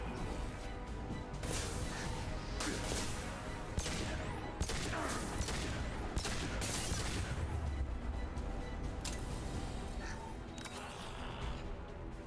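Rapid SMG gunfire in the sci-fi shooter Mass Effect 2, dense bursts of automatic shots with explosive impacts, loud and continuous throughout amid game combat noise.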